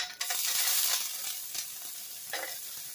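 Frozen onion dropped into a hot pan with beets, a sudden loud hiss that settles into a steady sizzle with a few stirring scrapes, no voices.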